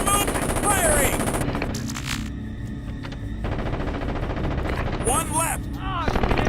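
Gunfire in Ghost Recon Advanced Warfighter: dense, continuous automatic bursts and rattling shots fill the whole stretch, loud and close, with shouted voices and radio-like chatter mixed in over the battle.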